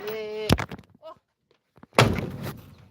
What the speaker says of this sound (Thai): ปิดละปิดประตูค่ะ